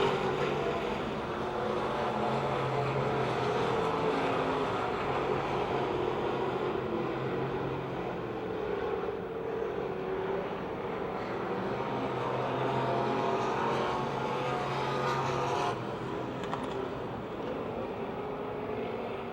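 Race cars thunder around the oval at Pennsylvania Motor Speedway near Pittsburgh, a continuous loud engine roar from the pack that swells and dips slightly as the cars circle the track.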